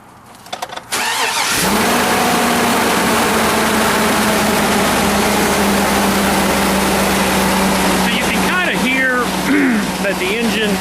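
A 2003 GMC Yukon XL with a needed-engine condition cranks briefly and fires up, then settles into a loud, steady high idle with a ticking, clicking note; a voice speaks faintly near the end.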